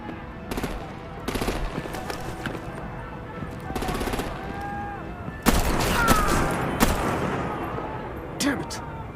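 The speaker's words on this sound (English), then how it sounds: "Break out the artillery and disable their vehicles!" Repeated bursts of automatic gunfire from Batman: The Enemy Within video game, loud and close, with a denser, louder volley in the second half and a busy background mix.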